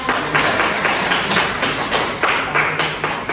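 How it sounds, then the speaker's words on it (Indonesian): A small group in a university class claps for a team, with sharp, close hand claps in short uneven bursts. The clapping is fairly loud and heard alone. "tepuk tangan buat tim kita ya"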